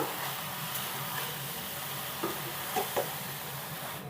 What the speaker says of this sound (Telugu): ఇప్పుడైతే ఒకసారి బాగా కలుపుకుందామండి